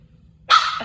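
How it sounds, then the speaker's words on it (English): A dog gives a single short, clipped half bark, close and fairly loud, cutting off quickly after a brief silence. "She's doing those little half barks"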